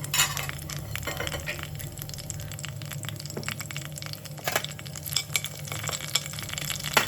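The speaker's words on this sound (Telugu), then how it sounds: "కళాయి పెట్టుకొని ఆయిల్ వేసుకొని మీకు సరిపడినంత పచ్చిమిరపకాయలు వేసుకొని కరివేపాకు" Green chillies and curry leaves sizzle in hot oil in a kadai, with a steady crackle and occasional stirring pops, close and moderately loud, with no talking.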